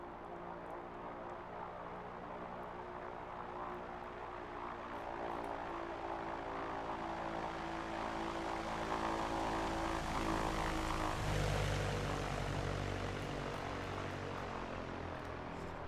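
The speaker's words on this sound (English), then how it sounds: "You can see like the aircraft like slipping sideways through the air as the wind's pushing it." A light propeller airplane flies steadily close by while being pushed sideways by a crosswind, its engine drone continuous and fairly loud with a slight swell near the end.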